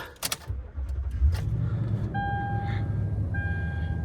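A 2010 Toyota Tundra pickup truck engine cranks and catches, then settles into a steady low idle, with a faint chime tone appearing over the rumble.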